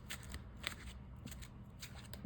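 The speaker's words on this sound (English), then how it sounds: "Let's get our yellow deck shuffled up." A deck of trading cards riffle-shuffled repeatedly, soft rapid flutters and snaps in quick bursts, close and quiet with no talking.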